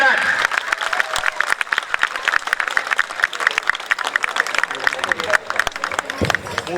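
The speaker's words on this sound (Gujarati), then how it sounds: "ભાઈ તાળીઓના પહેલામાં નંબર માટે તાળીઓના ગણગડાટ." An audience claps for a first-place winner at a Sharad Purnima celebration at Umiya Sansthan, Gandhinagar: dense, sharp claps close by, with a murmur of crowd noise and voices running through them.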